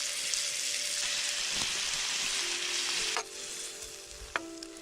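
Fresh Alaskan scallops fry in garlic butter on a camp stove outdoors in a blizzard, a loud continuous sizzle that drops to a softer hiss partway through, with a few sharp clicks and scrapes.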